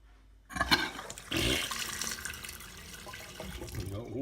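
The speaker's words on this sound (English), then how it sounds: "We've got water." Water gushes from a tap during a household plumbing test, starting abruptly and then running in a steady, splashing rush that fills the rest of the stretch, close by with no talking.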